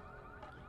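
A car alarm sounds at a shop in the racing game NFS Unbound, a faint warbling electronic tone heard briefly with no talk.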